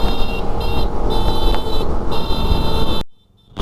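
A motorbike on a long touring ride from Madurai to Ladakh rolls along a road in Punjab, a steady, loud drone of engine and wind rumble that cuts out abruptly near the end.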